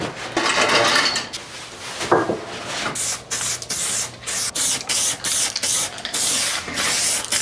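Urethane spray primer hisses from a spray gun onto fender door jambs in short bursts of several seconds each, with regular pauses between passes, loud and close.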